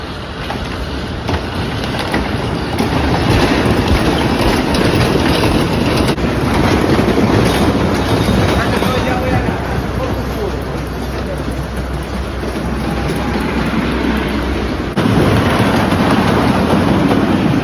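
The Cyclone, a wooden roller coaster at Coney Island, rattles along its track in a loud, rumbling clatter that swells and eases, mixed with strong wind buffeting close to the microphone.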